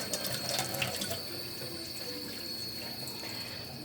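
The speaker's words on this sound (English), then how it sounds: "It's 2 cups of hot water. Well, as hot as my tap will go." Hot water runs steadily from a kitchen tap, a close, even hiss and splash that starts slightly stronger and settles into a constant flow.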